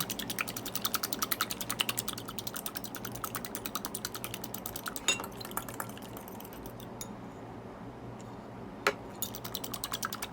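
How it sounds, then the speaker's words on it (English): Whisk beating two whole eggs with heavy cream in a bowl: rapid, steady, close tapping and clicking strokes with a light rhythmic rattle against the bowl, lasting throughout with a few short pauses and sharper knocks, no talking. "Beat everything together until foamy."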